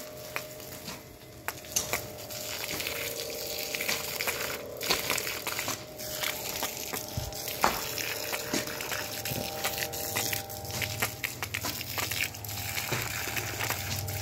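Water runs and splashes steadily at a durian seedling planting spot in Maos, Cilacap, Central Java, a continuous close gurgling wash with scattered clicks and knocks throughout.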